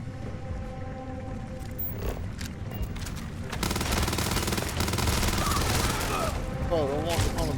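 Rapid automatic gunfire rattles in Starfield, loud sustained bursts that grow denser partway through, layered with booms and whooshing effects.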